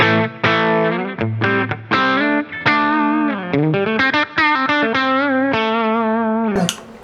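PRS SE Custom 24-08 electric guitar on its bridge pickup in humbucking mode, played through distortion and chorus: a string of sustained chords and single notes with short gaps, loud and up close, with no talk.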